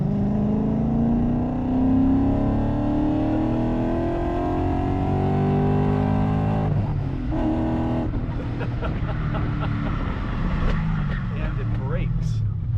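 A sterling grey 2003 BMW E39 M5 with tasteful performance upgrades accelerates hard while driving, its engine note climbing steadily through the revs before a shift and a renewed pull, loud and close under brief talk.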